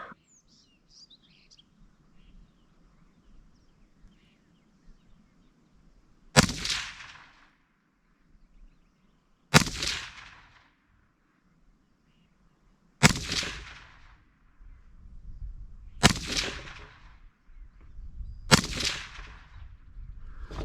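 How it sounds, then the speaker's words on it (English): Five sharp rifle shots ring out from a Heckler & Koch HK300, spaced a few seconds apart, each loud, close and followed by a short echo, with faint birdsong in the quiet gaps before and between them. "So let's do 5 more rounds."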